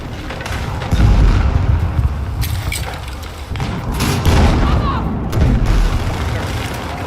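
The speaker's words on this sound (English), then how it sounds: "Flashbang, really?" A flashbang grenade goes off with heavy booming thumps amid battle noise, several loud low blasts spread across the stretch with crackling debris between them.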